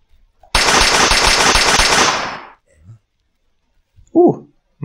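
Rapid automatic gunfire from the video game Anti Infected, a loud burst of about two seconds that cuts off, followed by a few brief faint sounds and a short voice-like blip.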